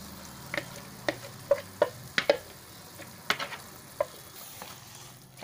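Boiled potatoes and mashed green peas are stirred into a sizzling green pav bhaji mixture in a pan, with scattered spoon clinks and scraping taps over a soft, steady frying hiss.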